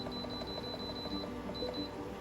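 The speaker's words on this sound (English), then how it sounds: "I'm going to set my timer on this thing" A kitchen timer emits a repeated series of high, thin electronic beeps as it is set, faint over quiet room noise, pausing briefly before another run of beeps.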